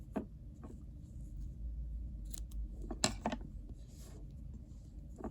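Scissors snip through white crochet yarn in a few short, crisp cuts close by, over a quiet room hum with no speech.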